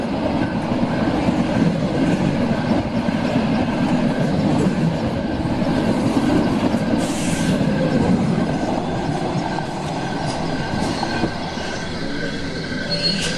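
A train rolls into a station with a steady, loud rumble of wheels on rails and faint squealing, continuous and close throughout with no talk.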